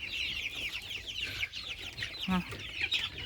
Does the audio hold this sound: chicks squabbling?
yes